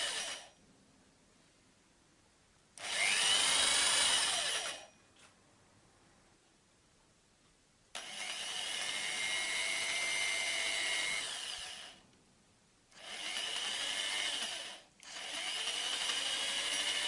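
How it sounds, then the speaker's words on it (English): An electric drill running at low speed while bolts go into a hydrogen HHO cell, three loud whirring bursts separated by quiet gaps, the longer middle run steady and close. "Use the drill at low speed, but do not push."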